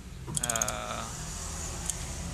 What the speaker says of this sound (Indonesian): Sekali lagi kita kencangkan bautnya.